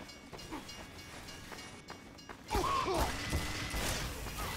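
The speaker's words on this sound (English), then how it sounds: "Did I get hit by a train?" A train roars through a Team Fortress 2 map, arriving as a sudden loud rumbling rush that fills the second half alongside game effects, after quieter gameplay sounds and some talking.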